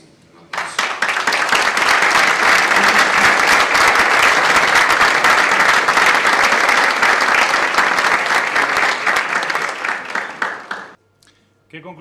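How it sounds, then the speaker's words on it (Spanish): A breakfast forum audience in southern Tenerife applauds the minister José Manuel Soria with loud, sustained clapping that swells quickly, holds steady for about ten seconds, then stops abruptly, leaving near silence. "Creo que se merece un aplauso."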